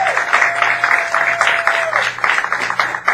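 An audience at an improvised comedy game show applauds for an improv contestant, with a short burst of clapping that rises and falls for about three seconds.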